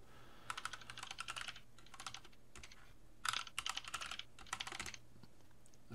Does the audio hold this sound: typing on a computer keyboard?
yes